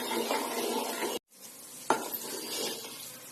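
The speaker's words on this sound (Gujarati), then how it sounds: "હવે આપણે એમાં અડદિયાનો પાવડર ઉમેરશું, સારી રીતે મિક્સ કરશું." Adadiya powder being stirred into one-string sugar syrup in a pan: a steady scraping, sizzling stir fills the clip, broken by a brief silent gap and one sharper knock, with no talking.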